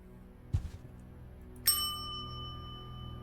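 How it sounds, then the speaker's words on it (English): A single bell in The Painscreek Killings rings once after a dull knock, a bright metallic ding that rings on with a long fading tail over a quiet background hum. "Cool, everybody, the bell works."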